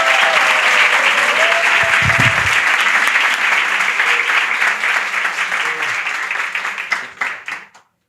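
Audience applause swells loud and dense for several seconds at a live talk-show recording, then thins into scattered claps and fades out, with a few voices briefly heard under it.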